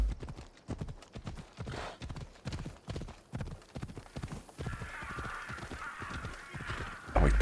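Horse hooves clip-clopping steadily on the ground in Assassin's Creed Odyssey, a close, even trotting rhythm of sharp repeated knocks that carries on for several seconds, with a faint bird caw and a brief thump at the end.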